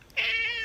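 Blackie the cat gives a single clear, close meow that is short and tonal and rises and then holds, heard alone.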